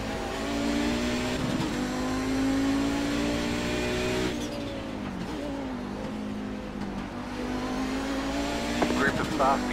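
A pack of fast race cars, including an Audi 90 from the Kamel GT class, closes in on the Charlotte Roval in iRacing, with steady engine drone, shifting revs and a swelling roar as the cars draw near.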